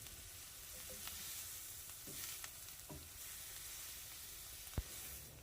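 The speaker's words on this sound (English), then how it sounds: "now I'm going to add my 4 tablespoons of unsalted butter, melt that down, and continue the saute for a couple of minutes" Four tablespoons of unsalted butter melting into a sauté in a pan, a steady hiss of sizzling that runs throughout, with a few faint clinks of stirring and one sharp tap near the end.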